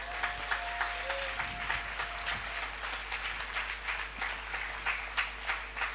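A church congregation breaks into sustained applause during a French sermon, a dense steady wash of clapping with scattered sharper claps and no voices over it.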